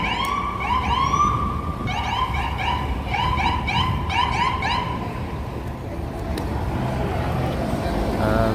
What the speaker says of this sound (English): It's an ambulance. New York Presbyterian Hospital ambulance.